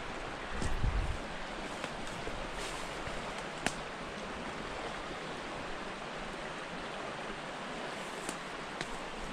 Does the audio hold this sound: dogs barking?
no